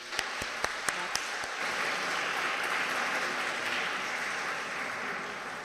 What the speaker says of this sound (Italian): Ancora un applauso vi prego perché sono stati bravissimi